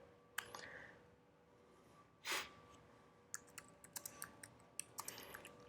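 Quiet computer keyboard typing while writing JavaScript code, a sparse run of soft clicks and taps with one louder rustle midway, then quicker clustered keystrokes near the mic.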